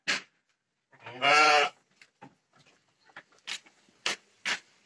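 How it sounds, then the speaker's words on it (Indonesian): Goats bleating in a pen at a sheep and goat farm, with one loud drawn-out bleat among several short, scattered cries and rustles, no talk. "Ramai kambing."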